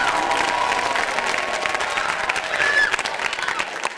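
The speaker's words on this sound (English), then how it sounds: "I'm going to give a huge round of applause to our incredible," Audience at a national finals event applauds a sponsor, a broad wash of steady clapping with light cheering mixed in, moderately loud and continuous throughout.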